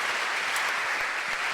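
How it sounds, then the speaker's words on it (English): A panel audience at the San Diego Asian Film Festival claps in a brief, dense, steady burst of applause. "let's give a big round of applause for Leanne Kim and the San Diego Asian Film Festival"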